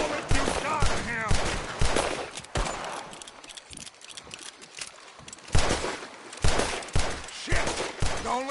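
Gunfire as many bullets are pumped into an approaching creature, bursts of rapid shots rattling in clusters between shouted voices, with quieter gaps in the middle.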